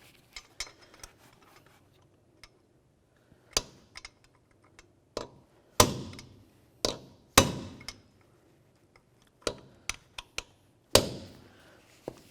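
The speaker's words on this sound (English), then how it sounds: "we'll take a punch and a hammer, and we're going to peen this nut over so it falls down into that slot" Sharp metallic hammer blows on a punch, peening over the front axle nut of a 2003-2008 Toyota Matrix CV axle; a dozen or so distinct strikes, loose at first then heavier, ringing taps spaced irregularly, close and alone.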